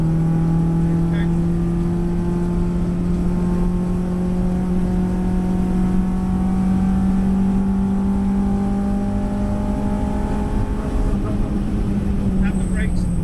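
A car engine holds a loud, steady drone in an instructional drive, with its pitch rising slowly and no break between gears. A voice coaches over the engine throughout.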